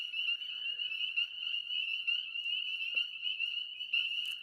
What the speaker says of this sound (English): these frogs could use a muzzle